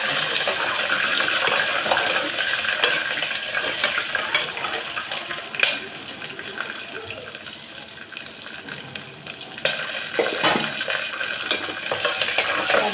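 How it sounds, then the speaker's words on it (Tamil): Fennel, star anise, pepper, cumin and chana dal sautéing in a pan for mango rice, a steady sizzle with scraping and stirring clatter close by, and a few sharper clinks along the way. "அடுத்தது வந்து இதை நல்லா கொஞ்சம் வதக்கிக்கலாம்."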